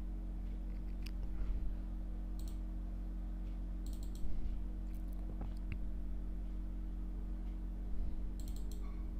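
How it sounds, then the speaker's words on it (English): A computer mouse clicks a few times, sharp isolated clicks spaced seconds apart over a steady low electrical hum. "you can just right mouse click"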